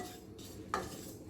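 Cumin being dry-roasted and stirred in a hot kadhai for a flaxseed chutney gives a single quiet metallic clink of the spoon against the pan, close by, with soft faint scraping around it.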